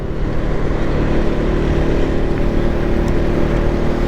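Loud, steady engine drone of motorcycles riding toward Nagarkot near Kathmandu, three bikes carrying six riders, a continuous close roar with no talk.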